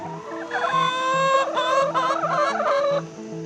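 A flock of backyard chickens on a quiet New Jersey street clucks and squawks loudly and continuously, close by, with a steady low hum or tone beneath.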